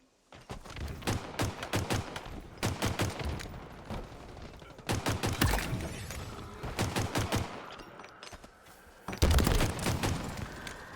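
Shock rifle fire in the video game Halo Infinite during a charity tournament match, with rapid bursts of sharp, punchy shots in several clustered volleys, loud and close, separated by brief pauses.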